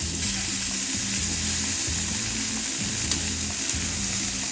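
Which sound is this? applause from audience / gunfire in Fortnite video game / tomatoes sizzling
tomatoes sizzling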